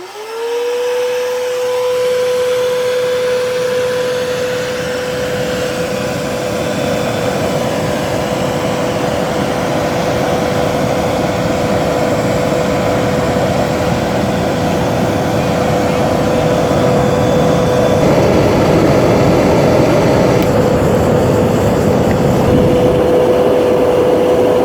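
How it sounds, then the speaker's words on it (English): A shop vac blows air onto a burning tree stump, a steady loud whine with a rushing airflow roar that starts abruptly and holds for over twenty seconds, with no talking. "it is kind of cool if you turn the shop vac on it"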